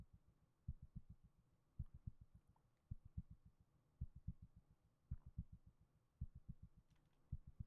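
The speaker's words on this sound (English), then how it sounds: "I hear the heartbeat." A steady in-game heartbeat from the occult horror game Zelle, heard as paired low thumps repeating in a regular rhythm over a faint hum, with no voices.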